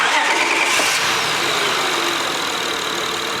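A 2003–2007 Honda Accord V6 starting after an oil change: a brief cranking burst, then the engine catching and settling into a steady, close idle.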